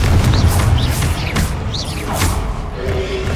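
Explosive Confringo spell blasts in Hogwarts Legacy, several booming thuds with whooshing spell casts layered over them, loud and close in a hectic stretch of combat.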